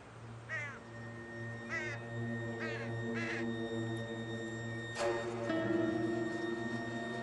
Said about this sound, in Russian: Не отстают от них и вороны.